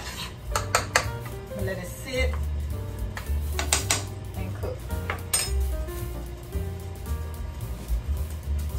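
Gumbo roux stirred in a pot for browning, with clinks and scrapes of a utensil against the cookware sounding in an irregular rhythm over low background hum, close and moderately loud.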